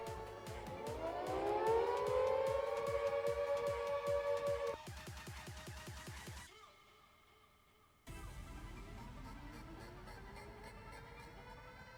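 A loud rising-and-falling civil-defense-style turf alert siren sounds on a livestream, wailing steadily, then briefly dropping away before resuming at full strength.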